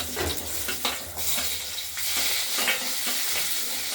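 Cut potatoes frying in oil with bay leaf, dried chilli and cumin, giving a dense, loud, steady sizzle with a few spatula scrapes and stirring knocks close by.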